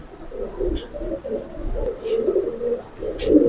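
Giribaz pigeons coo in repeated low, throaty murmurs through the whole stretch, fairly close, with scattered faint higher chirps around them.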